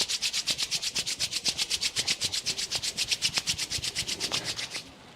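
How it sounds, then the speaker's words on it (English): Palms rubbed briskly together during a seated yoga session, a steady run of about thirty quick, even swishing strokes, close and clear, ending abruptly. "Now rub your palms together."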